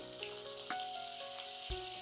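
Soft, steady sizzling of ginger frying in hot coconut oil, with faint clinks and scrapes of a utensil in the pan.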